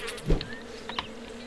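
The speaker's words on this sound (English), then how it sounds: "Oh, God, the bees!" Bees buzzing in the survival video game 7 Days To Die, a short insect drone with a brief louder swell near the start, then faint buzzing whines, with no talking.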